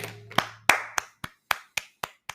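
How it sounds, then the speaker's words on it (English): Clapping from one person or a few hands, about nine distinct slow claps in an even rhythm, close and isolated against near silence. "There's my applause."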